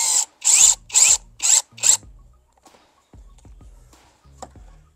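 A FortG brushless drill driver driving a hex screw into a masonry anchor, with five short loud whirring bursts followed by quieter clicks and handling knocks, close up.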